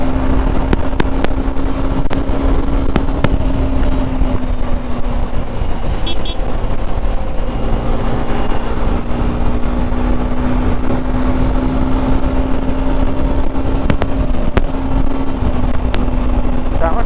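A two-wheeler riding flat out on a highway, its steady engine drone and heavy wind rush continuous and close throughout, with no talking.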